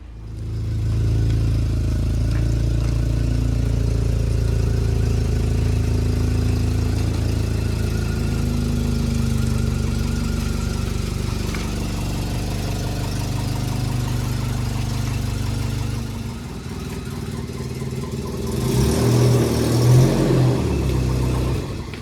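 Toyota LandCruiser RJ70 engine running as it rolls into a garage, a steady mid-pitched idle rumble that thins briefly before a short rev swells near the end.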